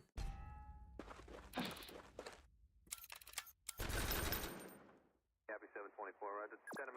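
Gunfire in the combat game Noobs In Combat: sharp bursts of shots and thuds, some loud and close, broken by short silences, with electronic tones near the end.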